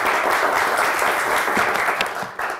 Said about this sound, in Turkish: pıt pıt daha kuvvetli bir alkış verin efendim